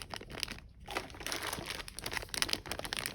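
Thin plastic bags holding Game of Thrones starter-set miniatures crinkle and rustle as they are handled up close, a steady busy crackle with brief pauses.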